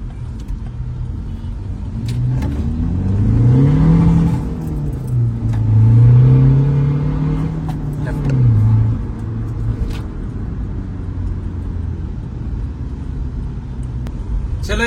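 A Skoda Octavia vRS Mk1 with a custom exhaust revs loudly nearby, its engine note climbing and falling in two swells before settling into a steady rumbling idle, with no voices.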